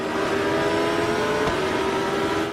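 A Formula Vee race car in the sim racing game Automobilista, at the Guaporé circuit, accelerates with a steady loud buzzing engine drone and no one speaking.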